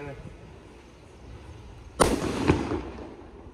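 A sharp, loud green sutli bomb firecracker blast, a second crack half a second later, then a fading rumble after a quiet lead-in.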